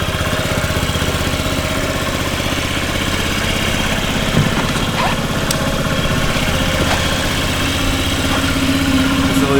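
A 2014 Honda Ruckus automatic scooter sits idling close by, its engine holding a steady, even putter throughout with faint rattly vibration and no speech.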